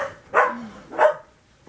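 Two sharp dog barks close by, spaced about half a second apart, followed by quiet.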